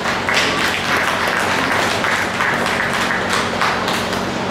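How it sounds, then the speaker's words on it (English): Audience applause at a county fair show, a steady wash of clapping from a crowd lasting several seconds without pause. "Give them a big round of applause."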